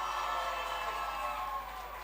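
Crowd at a boxing fight night cheering and applauding the red-corner fighter after the bout, a steady dense roar of voices and claps that holds at an even level and eases slightly near the end.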